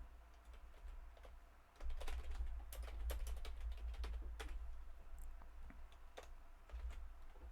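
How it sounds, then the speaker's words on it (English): Fingers type on a computer keyboard, a nearby run of quick uneven clicks with short pauses over a low steady background hum. "Apparently, I cannot type today."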